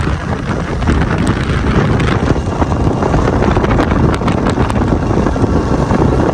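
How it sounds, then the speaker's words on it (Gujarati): Steady, loud rumble of a motorcycle on the move, thick with wind buffeting the microphone throughout, no voices. "આપણી બાઇક જઈ રહી છે અત્યારે હવે"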